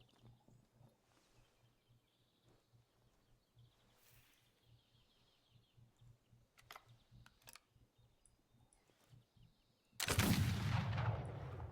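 A single loud gunshot cracks out in the video game Gunsmith Simulator near the end, after a long stretch of quiet ambience with faint outdoor chirps and scattered small clicks.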